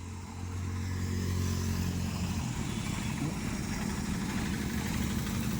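A car idles low and steady while slowly reversing into a garage, the engine rumble close and continuous with a brief word spoken over it.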